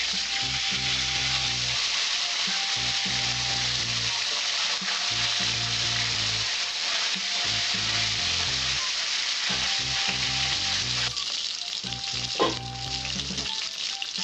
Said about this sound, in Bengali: আমি ঢাকা দিয়ে মাছের মাথাগুলো ভেজে নেব।